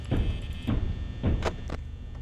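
Several dull knocks on a door in the Five Nights at Freddy's video game come in an irregular rhythm, soft, close thuds against a low background hum, with no talking.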